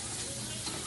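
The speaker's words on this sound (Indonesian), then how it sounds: "Oh masak kangkung ya, Chef Nabila ya?" Water spinach (kangkung) stir-fries in a pan at a school camp meal, giving a steady, dense sizzle with soft stirring scrapes and no talking.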